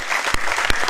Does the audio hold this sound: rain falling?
no